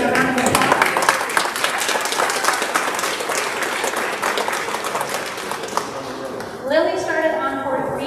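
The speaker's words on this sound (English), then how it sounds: "give her a round of applause" A room full of people applauds a student called up in front of a promotion ceremony, dense clapping sustained for several seconds before a voice begins speaking over the tail end.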